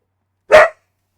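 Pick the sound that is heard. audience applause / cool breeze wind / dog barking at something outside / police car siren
dog barking at something outside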